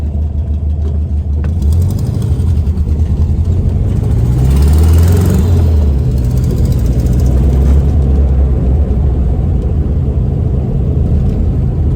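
Air-cooled engine of a 1971 VW Beetle running with a holed exhaust, a loud steady low rumble with some rising revs midway, close and continuous with no talking.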